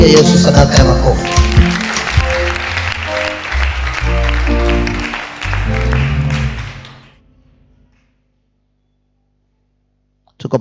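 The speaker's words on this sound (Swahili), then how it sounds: "Yesu sadaka ya makofi." A church congregation gives a loud round of clapping offered to Jesus during an end-times sermon, dense and sustained for about seven seconds before fading into silence, with a brief burst returning at the very end.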